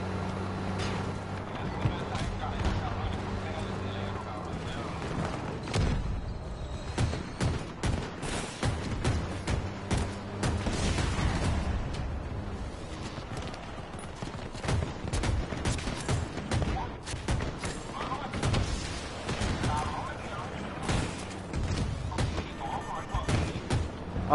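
Rapid bursts of anti-aircraft gunfire and explosions in the video game Battlefield 2042, repeated across the scene with dense overlapping shots under ongoing battle noise and occasional talk.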